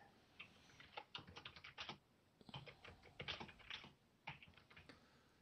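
Keyboard typing in quick bursts with short pauses between them, fairly close and moderately loud, with no talking over it.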